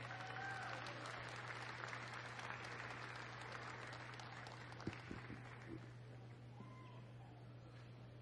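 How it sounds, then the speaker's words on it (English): An arena audience at the Crufts 2014 International Junior Handling Competition applauds the Australian competitor, a broad, fairly faint wash of clapping that fades gradually, with a steady low hum underneath and a few brief knocks. "It's your turn to clap and to applaud for Australia."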